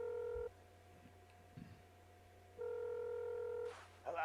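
Telephone tones from an animated phone call scene: two long, steady electronic tones separated by a pause, fairly faint, with a brief rustling sound at the end.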